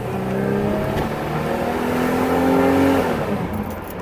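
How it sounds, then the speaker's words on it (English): A 1987 Pontiac Firebird with a 2.8L V6 engine and 47,904 miles accelerating: a loud, close engine note climbs steadily in pitch, then eases as it shifts, with a smooth, continuous drone throughout. "It accelerates smooth. It sounds real great, shifting into second and overdrive."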